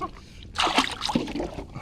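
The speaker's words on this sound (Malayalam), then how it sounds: "അങ്ങനെ കയാക്കിലെ വെള്ളമെല്ലാം കോരിക്കഴിഞ്ഞ്" Water being scooped and bailed out of a kayak, a sudden close splash and slosh after a quiet start, followed by trickling and dripping.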